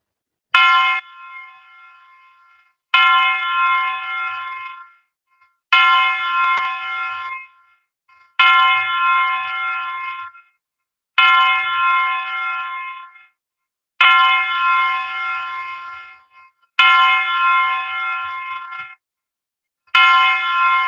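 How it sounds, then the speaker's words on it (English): A bell rung ten times as a memorial count at a wrestling show, each loud ringing strike in a slow even rhythm, about every two and a half seconds, decaying before the next, with no talking. "We're gonna do the 10 bell count"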